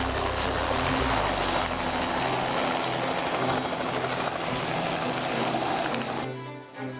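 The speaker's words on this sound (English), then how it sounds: "The chopper turned right, moved ahead, and started climbing." A helicopter banks right and climbs over Victoria Falls, its rotor and engine a loud, continuous close drone heard from inside the cabin that eases slightly toward the end.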